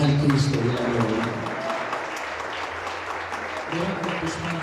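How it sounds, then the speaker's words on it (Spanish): A church congregation gives a loud, sustained round of applause during a service, with a voice speaking over the clapping as it eases slightly and then swells again near the end. "Nuevamente déle ese fuerte aplauso al Cristo de la gloria."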